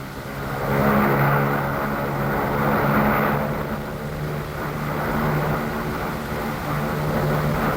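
A Mohawk reconnaissance aircraft flies back to base in 1960s Vietnam, its engines giving a steady droning hum with a low tonal whine that swells and fades slightly, alone without voices.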